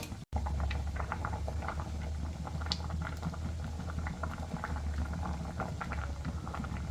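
Okra pulimunchi curry boils in a spicy, tangy masala, with a steady close-up bubbling and spluttering that goes on without a break and no voices.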